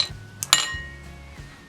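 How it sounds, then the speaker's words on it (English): Ice cubes dropped into a large bowl for a no-bake pistachio kunafa eclair filling: a few sharp clinks and rattles, close and bright, with a quiet hum between them. "In a large bowl, add ice cubes."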